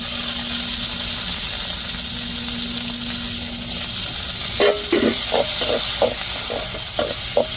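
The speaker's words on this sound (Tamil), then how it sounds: "தக்காளியை சேர்த்து நல்லா வதக்கி விட்டுக்குருவோம்" Tomatoes and curry leaves sauté in a pan with a steady loud sizzle, joined in the second half by several sharp scraping stirs of a spoon against the pan.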